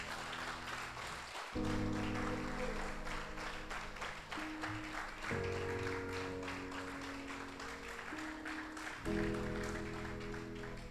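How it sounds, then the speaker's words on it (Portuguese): A church congregation claps together over sustained keyboard chords, steady rhythmic applause filling the room for several seconds. "Aplauda ao Senhor Jesus"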